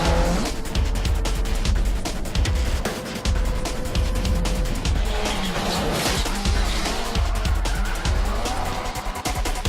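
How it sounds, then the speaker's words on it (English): Cars in a slalom race leg on a sprawling parking lot in San Fernando rev their engines and squeal their tires, loud and continuous with repeated engine surges, skids and a faint voice underneath. "The sprawling parking lot of Robinson, San Fernando again is filled with sounds of revving engines and squealing tires"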